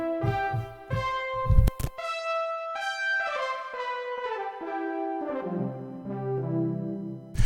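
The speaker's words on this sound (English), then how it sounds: "777 is called polypitch brass, and it sounds like this." Synthesizer keyboard playing a polypitch brass preset, a sequence of bright brassy chords and notes with rich harmonics, stepping down in pitch, clean and alone with no talking.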